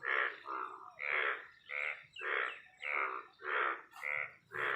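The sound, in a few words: frogs croaking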